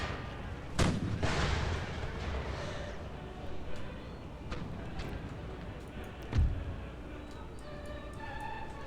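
Cannon artillery fire in the video game Empire: Total War: two heavy booming shots several seconds apart over a constant rumble of battle, with fainter distant reports in between.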